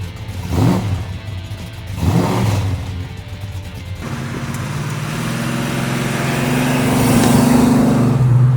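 A 1970 Plymouth Road Runner with a big-block V8 on a test drive gives two short revving bursts, then a steady engine note rising as it accelerates, heard close with no talking.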